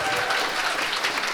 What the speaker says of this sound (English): Can we give a huge round of applause to everyone who works here at Good Chat for having us